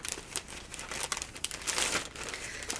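Close, crisp crinkling of plastic packaging being cut open with small scissors, small snipping and tearing sounds, a steady stream of rustles and clicks with no talking.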